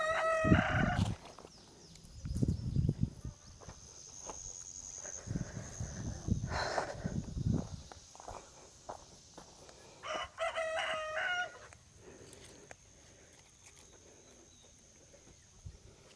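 A rooster crows twice, loud and near, among clucking farm chickens, with scattered rustling and faint background noise between the calls.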